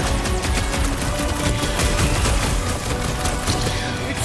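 Rapid, dense gunfire in a Guardians of the Galaxy video game, a relentless close-up barrage of overlapping shots and impacts with no pauses.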